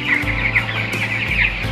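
Broiler chickens in a coop give continuous close clucking and calls, loud and busy, with no talking.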